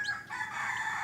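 A rooster crows close by, one long drawn-out call with a raised, strained tone.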